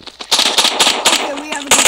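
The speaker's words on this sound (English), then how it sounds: "I just killed that dude with a gun" Rapid bursts of gunfire from the mobile shooter game Modern Ops, several sharp volleys in quick succession across two seconds, loud and close, with game sounds layered over them.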